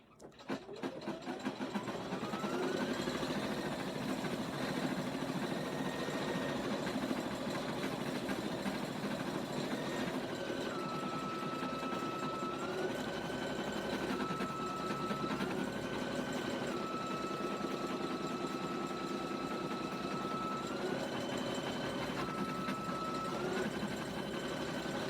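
An embroidery machine stitches lettering onto an appliqué sports ball bag tag, starting with a whir and then running a steady, rapid mechanical hum with shifting motor pitch for the full stretch, alone and moderately quiet.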